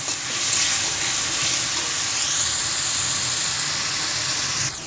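Fried rice with tomato and coriander sizzles steadily in a pan, a dense, continuous hissing fry held close and loud with no talk.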